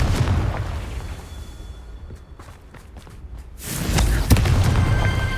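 A Confringo fire spell blast in Hogwarts Legacy lands as a loud booming burst, preceded by rumbling blasts and a quieter stretch with scattered thuds.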